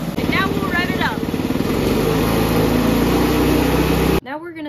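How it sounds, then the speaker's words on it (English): Motorcycle engine revving hard on a dyno with the rear wheel spinning, a loud sustained roar with rising pitch, with voices talking over it before the engine cuts off abruptly near the end. "And now we'll rev it up."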